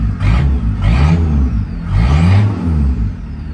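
Car engine revved in short bursts while the driver presses the accelerator, three loud close swells of engine roar with no talk.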